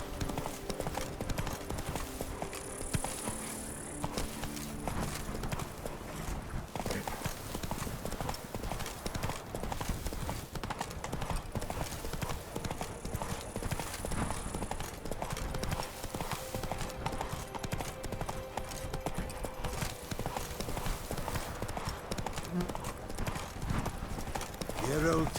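Roach, Geralt's horse in The Witcher 3, gallops with steady rapid clip-clop hoofbeats throughout, joined by a brief whinny, while game music and occasional speech run underneath.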